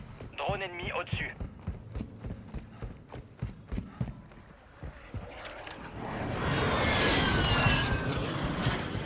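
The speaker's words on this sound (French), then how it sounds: "Drone ennemi au-dessus." An enemy drone flying overhead in Call of Duty Warzone, a rising buzzing whine that swells over the last few seconds after a run of regular thumping in-game footsteps, with a brief voice line at the start.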